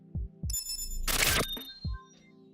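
A software notification plays in an Unreal Engine project: a few soft low blips, then a bright chiming tone with a short whooshing burst, then a final blip. It is close and clear, with no talk.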